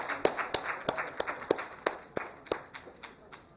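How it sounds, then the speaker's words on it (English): Sparse, uneven claps from an award-ceremony audience, about a dozen distinct hand slaps spread over a few seconds, fairly quiet and a little distant, with no continuous crowd roar. "May I request everyone to give a big round of applause again."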